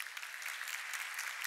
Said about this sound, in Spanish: Démosle entonces un fuerte aplauso a Alejandro Perdomo